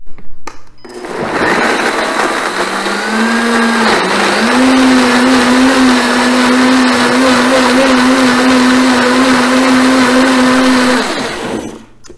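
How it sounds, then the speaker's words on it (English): A kitchen blender whirs loudly through gravy, spinning up after a short pause and holding a steady, close, high-pitched drone for about ten seconds before shutting off. "And now I'm going to blend again."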